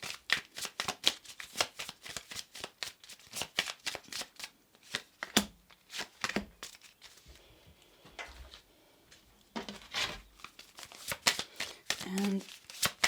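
Oracle and tarot cards being drawn and handled from a deck during a card reading, with repeated crisp riffling, flicking and sliding card sounds in close bursts throughout, a person talking intermittently over them.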